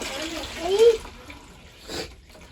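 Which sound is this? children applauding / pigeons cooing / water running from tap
water running from tap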